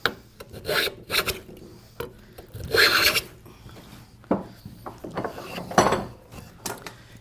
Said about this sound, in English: I need to just make a couple of partial cuts